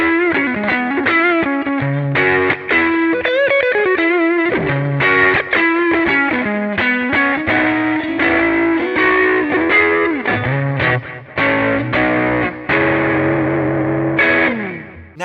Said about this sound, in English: I want it to be a very punchy, little tweed, sort of almost lo-fi sound.